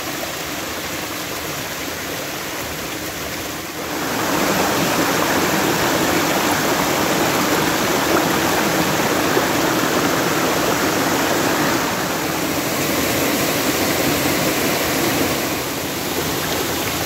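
A mountain forest stream flows loudly and steadily nearby, a dense continuous rush of water that swells a little louder after the first few seconds and holds without any voices.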